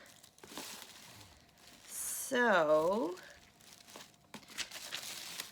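Crinkly plastic bag around takeout ramen being handled and opened, a bright crackling burst in the middle between brief spoken words and softer rustles.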